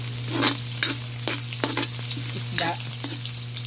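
Chopped onion frying in reused oil in a home kitchen pan, a steady close sizzle with intermittent stirring scrapes and clatters over a constant low hum.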